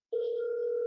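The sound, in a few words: phone ringing while calling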